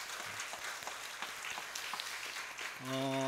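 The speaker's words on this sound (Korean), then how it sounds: "우리 청년들 한번 박수하겠어요." Church congregation applauding at a Sunday afternoon worship service, steady clapping at moderate distance, then a sustained organ-like tone comes in near the end.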